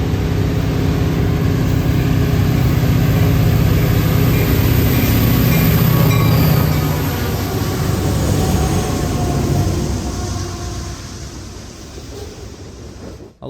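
An EMD 16-645 diesel locomotive prime mover working at high power, a loud heavy throbbing roar as the train passes close, gradually receding and fading near the end.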